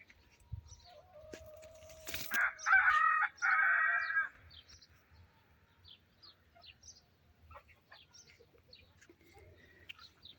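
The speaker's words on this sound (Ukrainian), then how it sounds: "а кури кричать" A rooster crows once, fairly loud, amid faint scattered clucks and chirps from hens in a quiet garden after rain.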